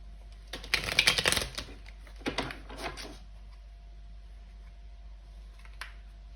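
Tarot cards being shuffled and pulled, a flurry of papery riffling and snapping that clusters early, then a couple of shorter handling sounds, close and fairly quiet with no talk.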